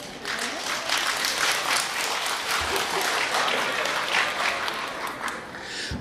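A live Tianjin crosstalk show audience claps steadily for a few seconds, a dense even patter of many hands in a hall, with no voices over it.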